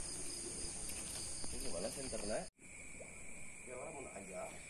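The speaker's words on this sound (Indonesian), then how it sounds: "Suara jangkrik mulai mengisi keheningan malam." Steady high-pitched cricket chirping fills the night background during a spearfishing trip, with voices talking intermittently over it and a brief cut partway through.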